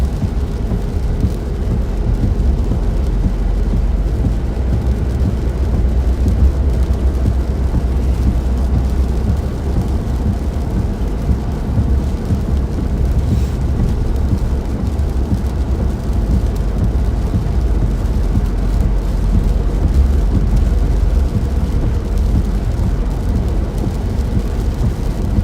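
Steady rain and low rumbling thunder fill a storm chase, a dense, continuous wash of rainfall with deep broadband rumble throughout and no talking.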